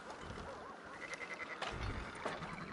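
Sheep bleating in the Red Dead Redemption 2 video game, a few wavering bleats rising over a busy farm-like background, moderately close and clear.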